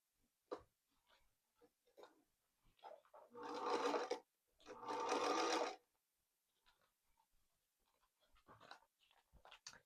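A Singer Featherweight sewing machine stitching fabric in two short bursts of rapid mechanical whirring, about a second each, separated by a brief pause, with quiet handling clicks and thumps around them.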